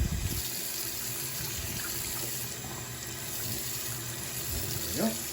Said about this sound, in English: We're just going to take some warm tap water.